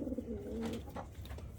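Pigeons at a breeding loft give a soft, low cooing call that swells briefly and fades, close by and followed by faint rustles.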